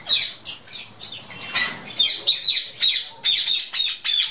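Ringneck and grey parrots in a breeder's aviary squawking while being fed a grain mix, a rapid series of sharp, high, rhythmic calls repeating about twice a second, close by.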